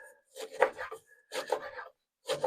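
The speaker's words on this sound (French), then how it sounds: "avec un couteau, je le coupe" Wild garlic cut with a knife on a board: three short bursts of crisp chopping and slicing, close and moderately loud, separated by brief pauses.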